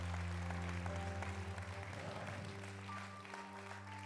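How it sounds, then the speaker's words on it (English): A church congregation gives a round of hand claps, a dense, fairly soft wash of applause that holds steady for several seconds with a musical background underneath. "If you believe it, give the Lord a hand clap."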